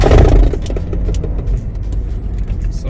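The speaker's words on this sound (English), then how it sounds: "If you get noise like this, it's not your center bearing, it is your flex disc." A BMW E36 accelerating with a worn flex disc, giving a steady close low-end drivetrain rumble with faint rattly clatter over the engine note, no talking.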